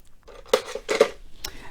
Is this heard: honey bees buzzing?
no